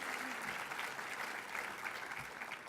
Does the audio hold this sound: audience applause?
yes